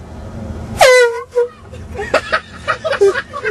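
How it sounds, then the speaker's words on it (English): A loud air horn blares once with a sharp rising tone, followed by voices and crowd chatter in the background. "Got the air horn."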